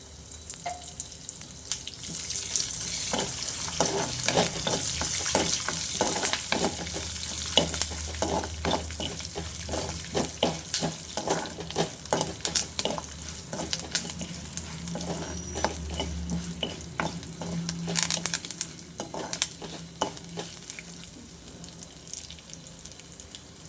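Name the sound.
frying tempering of mustard seeds and lentils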